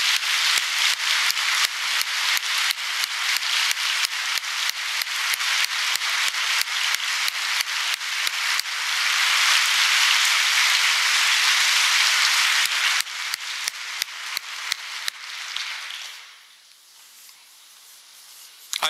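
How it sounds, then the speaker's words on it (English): Audience applause for plant operations, grounds and housing support staff at a university State of Christopher Newport address, steady dense clapping for about fifteen seconds that thins into scattered claps and fades out. "I want our colleagues in plant operations, grounds, and housing support to stand so we can say thank you with a round of applause"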